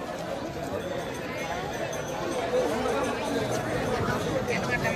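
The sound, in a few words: crowd chatter at Ayodhya Ram Mandir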